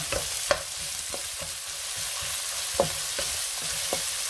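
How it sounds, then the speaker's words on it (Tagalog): Red onions sauté quietly in a pan, a steady soft sizzle broken by occasional scraping stirs of a spatula, with no voices over it. "Haluin lang natin siya. Igisa lang natin siya."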